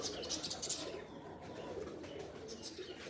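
Pigeons cooing softly and somewhat distant at a pigeon keeper's loft, with low calls spread over the ambient background and no talk.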